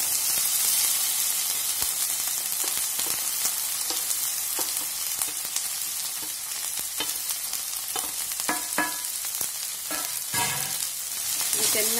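Okra (bhindi) frying in hot oil in a pan, a loud continuous sizzle broken by repeated stirring clicks and scrapes, close up with no voices.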